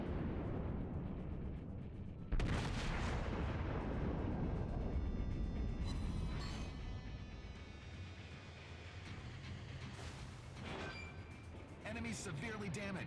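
Heavy booming main-gun salvos from the battleship USS North Carolina in World of Warships, with loud broadband blasts and rumbling aftermath under game ambience, several shots spaced across the scene.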